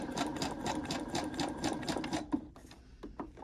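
A sewing machine stitching through paper, running in fast rhythmic bursts of needle strokes, pausing briefly, then picking up again with a few short stitches, loud and close with no talking.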